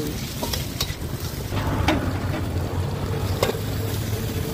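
Garlic sautéing in a hot wok at a Thai street food stall for mama noodles: a continuous loud sizzle with scraping stir strokes and occasional sharp spatula clinks, busy outdoor hum underneath.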